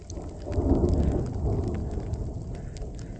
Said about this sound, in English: It started raining too pretty hard.